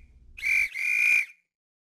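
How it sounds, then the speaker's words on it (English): A sharp, shrill whistle blows twice in quick succession, the second blast longer, then silence. "Or a whistle."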